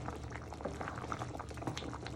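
Chicken and chorizo ragu with potato and paprika comes up to a simmer in a pot, giving quiet close bubbling with small irregular pops and no speech.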